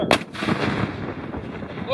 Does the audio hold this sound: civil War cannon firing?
yes